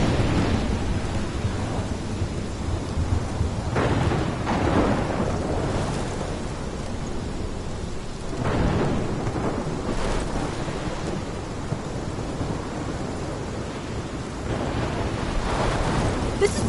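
A thunderstorm in the video game Life Is Strange brings steady heavy rain, with rolling thunder swelling in several loud broadband bursts over roughly seventeen seconds.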